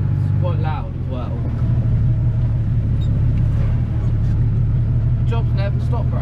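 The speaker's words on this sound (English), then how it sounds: "I've got to weld the exhaust up on this because it's quite loud as well." A Ford 7840 tractor engine with a broken exhaust runs loud and close, a continuous deep rumbling drone throughout, with someone talking over it.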